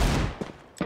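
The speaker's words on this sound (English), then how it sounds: "Oh, nice use of the Deagle there from Frost Misty." A few sharp Desert Eagle pistol shots go off in a CS:GO match, two quick bursts separated by a short pause, mid-level and without talk.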